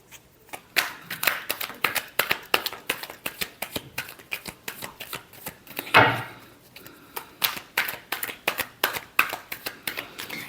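A deck of tarot cards is shuffled by hand close up in quick, even, rhythmic riffles, with one longer, fuller burst midway through the run.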